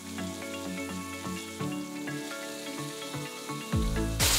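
Chicken pieces fry in a pan with a steady, close sizzle, with light clinks and taps of utensils throughout and a louder burst of sizzling at the very end.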